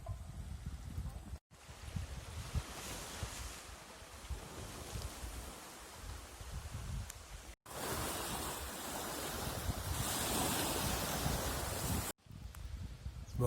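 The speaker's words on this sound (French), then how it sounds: "les vagues, elles peuvent faire 5 mètres là sur la côte" Surf rolls onto the coast of Penang National Park in Malaysia, a continuous wash of waves with broad rushing noise, rising louder in the later part, mixed with wind buffeting the microphone and no voices.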